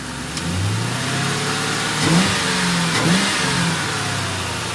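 A Ford Mustang engine idling steadily after an idle air control valve replacement, with two brief revs that quickly settle back to a smooth idle, close by and without talking.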